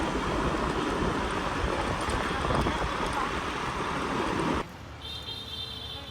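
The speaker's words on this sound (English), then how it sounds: "It's pretty windy while I'm driving." Heavy wind buffets a microphone while driving on Phu Quoc, a dense roar that stops abruptly near the end, leaving a quieter background with faint tones.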